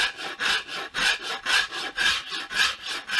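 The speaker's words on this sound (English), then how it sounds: "I'm going to go over to my Japanese rasp and just do a little bit of round over." A Japanese rasp rounds over a wooden guitar neck in long, even strokes, with about six rhythmic scraping passes close and clear and no talking.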